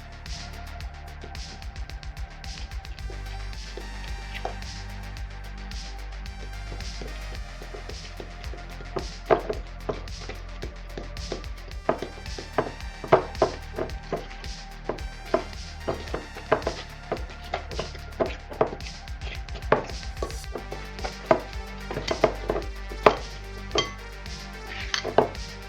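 Keto pecan pie filling with butter stirred in a bowl, a steady run of light scraping and tapping utensil clicks against the bowl, close and continuous with no talk.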